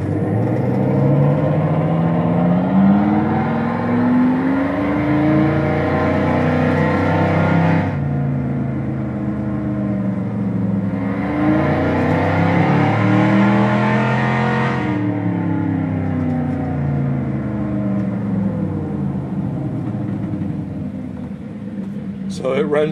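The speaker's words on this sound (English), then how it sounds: "you should be able to hear the engine sounds come on now" Simulated engine sound from a Factory Five Mk4 electric car, a loud synthetic V8-style drone that rises and falls in pitch through repeated revs, cutting out briefly between sweeps, with talking throughout.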